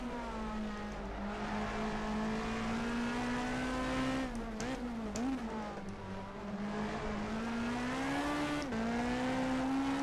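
A front-wheel-drive British Super Touring car engine in rFactor 2 drones steadily at high revs, its pitch wavering briefly mid-way as it shifts and recovers, loud and continuous with no voices.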